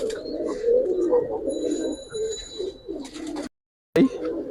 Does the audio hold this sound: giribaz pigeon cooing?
yes